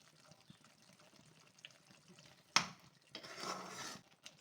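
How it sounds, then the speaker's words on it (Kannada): Water left from rinsing a grinder jar is poured into a pan of paneer masala with tomatoes. A quiet clink comes first, then a soft, steady splash lasts about a second near the end. "ಸ್ವಲ್ಪ ಜಾರ್ ತೊಳೆದಿರೋ ನೀರು ಹಾಕೊಳ್ತಾ ಇದ್ದೀನಿ"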